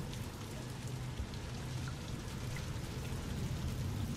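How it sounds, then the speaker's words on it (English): Steady rain falls in the game Rain World: Downpour, a dense, continuous hiss of drops with a low rumble beneath, even and unbroken with no voices. "It's raining."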